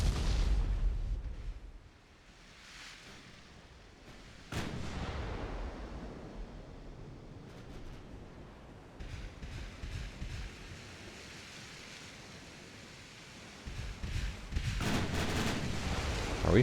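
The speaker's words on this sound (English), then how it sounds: "why am I firing AP at the destroyer?" Naval guns in a warship battle video game fire armor-piercing shells at a destroyer: heavy booming salvos near the start, around five seconds and again near the end, with rumbling between them and no talking.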